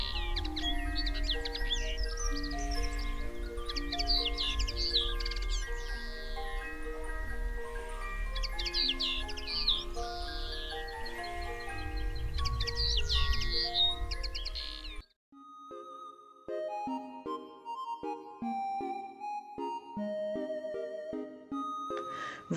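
Birds in an animated children's New Year story chirp and twitter brightly above warm backing music for about fifteen seconds, then the birdsong stops and sparse music carries on alone.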